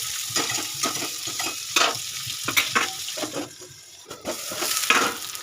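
Potatoes, papaya and eggplant frying in a pan, loud crackling sizzle broken by repeated scraping stirs in an irregular rhythm, close and without talk.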